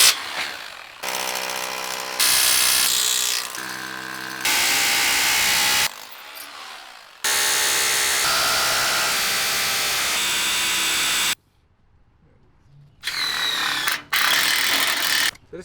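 A power drill with a 1/4-inch bit bores holes while a Steelway steel cellar door is fastened down. Loud whirring and ratcheting bursts start and stop, separated by brief pauses and one near-silent gap.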